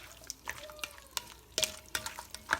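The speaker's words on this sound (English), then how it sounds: "Mix them well." Ingredients for Filipino-style chicken soup being stirred together in a pot with seasonings of black pepper and salt: soft, irregular scraping and clinking taps at close range, with faint light sizzle between strokes.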